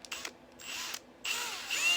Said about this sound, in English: Let me run the drill bit in there carefully because there's threads right there.